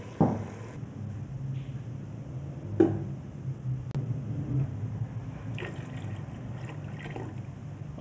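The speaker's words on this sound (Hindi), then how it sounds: "अब इसमें पानी डाल लेती हूँ मैं।" Water pours steadily into a pot of fried chicken, a soft continuous splashing rush with a couple of light metallic clinks, close by and fairly quiet.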